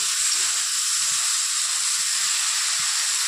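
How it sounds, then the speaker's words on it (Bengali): Eggplant pieces frying in hot oil in a pan, giving a steady, even hiss and sizzle that continues unbroken and fairly loud throughout, with no talking. "বেগুনগুলো দিয়ে দিয়েছি, বেগুনগুলো একটু ভেজে নেব"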